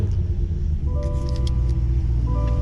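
A Cadillac CT5-V Blackwing's 6.2 liter engine idles with a deep, loud rumble, then revs, its rising tones swelling over the low throb before settling back.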